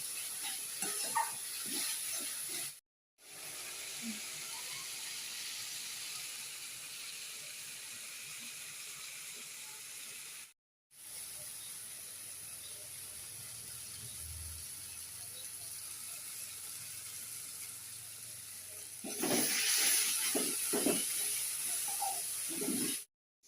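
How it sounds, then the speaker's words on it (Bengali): Spice paste frying in a pan for duck egg and potato curry, a steady close hiss and sizzle with occasional stirring scrapes, briefly cut off twice, louder near the end, no voices. "আমি মশলাটা আরো 5-7 মিনিট কষিয়ে নেব।"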